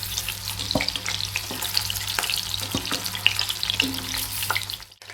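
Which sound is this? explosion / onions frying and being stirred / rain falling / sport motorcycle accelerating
onions frying and being stirred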